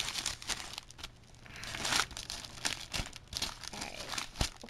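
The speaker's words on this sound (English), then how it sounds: "Okay, so I'm gonna open this up. I don't want to rip the paper." Gift wrapping paper on a piece of mail crinkles and crackles as it is pulled open, with irregular close bursts of rustling and a few sharper tearing snaps.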